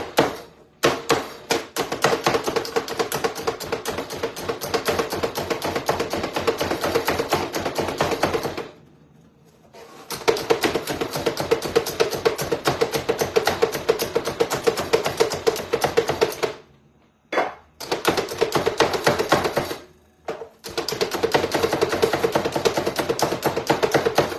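An onion being chopped in a Pampered Chef pull-cord food chopper gives rapid, steady clicking and chopping taps in three long bursts separated by short pauses, close and fairly loud.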